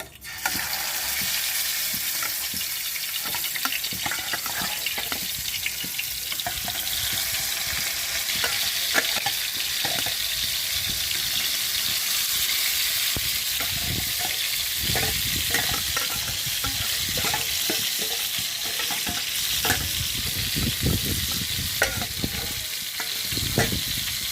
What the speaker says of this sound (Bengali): এখানে তেল চাপিয়ে দিয়েছি, সরষের তেল। এই মাছ ভাজবো।